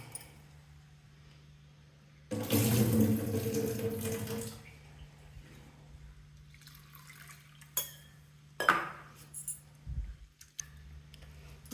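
A tap runs in a strong rush for a couple of seconds, then water sloshes and drips as rice flakes are rinsed in a bowl, followed by scattered clinks.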